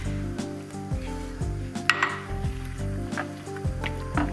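Basil is stirred into tomato puree and olive oil in a pan, with steady scraping and clinking of the utensil against the pan and a constant low hum underneath.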